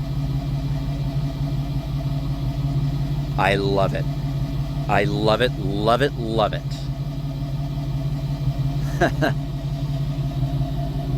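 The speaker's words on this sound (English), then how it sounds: "Now that, ladies and gentlemen, the sound of a true muscle car." A muscle car engine idles with a new free-flowing exhaust, its catalytic converters and smog pump removed, giving a deep, steady, loud rumble throughout while someone talks excitedly over it.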